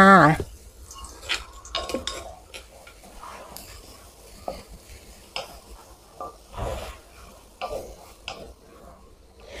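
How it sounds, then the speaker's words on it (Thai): Garlic stir-fries in hot vegetable oil in a wok for pad see ew with pork, a faint sizzle under clattering spatula scrapes and knocks on the pan, with someone speaking briefly. "ใส่น้ำมันพืชลงไปในกระทะนะคะ เมื่อน้ำมันร้อนนะคะ ใส่กระเทียมลงไปผัดได้เลยค่ะ"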